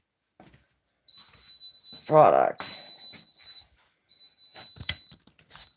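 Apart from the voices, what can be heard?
bread maker beeping alarm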